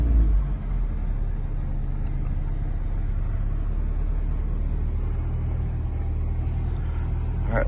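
A 1984 green Saab 900 Turbo's engine runs with a steady, loud low rumble that stays even throughout, heard from close by without any voices.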